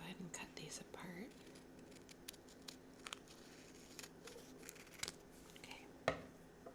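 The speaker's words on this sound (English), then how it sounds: "I think I will go ahead and cut these apart." Scissors snip through diamond art sheets close to the microphone in a quiet setting, with several crisp cuts, paper rustling and soft whispering between them.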